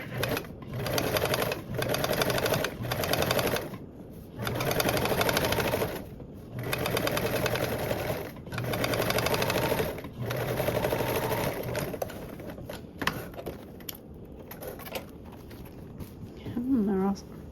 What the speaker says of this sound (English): And then top stitch.